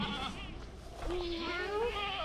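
Goats on a farm bleat in a couple of wavering cries that rise and fall, fairly close, over a soft outdoor background.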